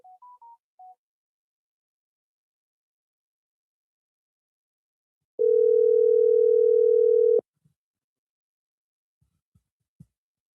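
A steady telephone tone sounds for about two seconds, loud and alone, following a few short beeps at the start and followed by faint clicks, while a call is placed on another phone.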